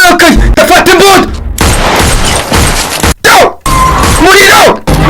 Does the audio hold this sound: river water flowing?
no